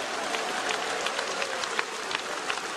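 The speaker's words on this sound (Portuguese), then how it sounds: "Desocupem as mãos, batam palmas, glorifiquem ao Senhor." A church congregation claps together in a steady, dense wash of applause, fairly loud and sustained without pause.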